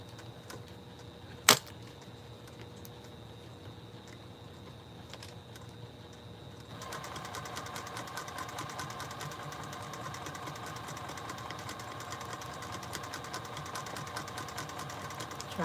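A sewing machine doing free motion quilting starts up partway through after a quiet stretch and a single sharp click, then runs steadily with a fast, even mechanical whir until the end.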